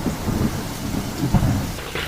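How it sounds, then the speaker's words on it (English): Rain pours steadily during a thunderstorm, with low rumbling swells and a brief dull crack near the end, the storm sound filling the short clip on its own without any voices. "The Thunderstorm."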